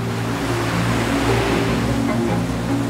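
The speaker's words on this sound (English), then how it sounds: "Our voyage now takes us through this treacherous channel, whose ferocious currents and whirlpools have terrified mariners for generations." Strong sea currents and surging waves in the Corryvreckan channel, a steady loud rushing wash of water with a low engine-like hum beneath, continuous throughout with no voices.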